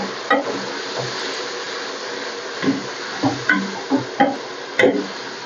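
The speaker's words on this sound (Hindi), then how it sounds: "ये इतने प्याज ब्राउन करना था।" Sliced onions browning in a pan for haleem sizzle steadily while a spoon stirs them, sending out several sharp scraping clinks against the pan near the end.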